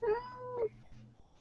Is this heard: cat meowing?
yes